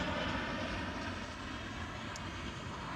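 An Airbus A380 landing at Amsterdam Schiphol gives a steady, broad engine roar that holds loud and even throughout, with no voices.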